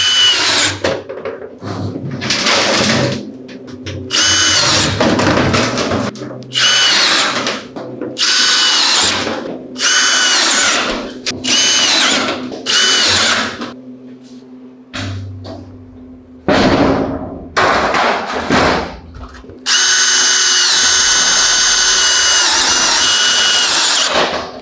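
Power drill driving three screws through overlapping sheet metal round duct pipe, loud whirring bursts of varying length separated by short pauses, with a longer steady drill run near the end.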